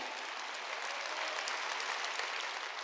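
A congregation at a Korean Sunday church service applauds in a steady, even wash of many clapping hands. The sound is continuous and fairly distant, with no talk over it.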